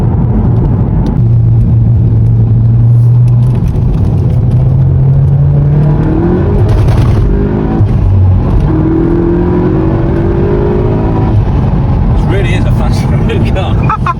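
A tuned 400hp VW Golf Clubsport revs on a dyno during a pull, its engine note rising and falling in long sustained sweeps as the tires struggle for grip, with a steady underlying rumble and someone talking over it.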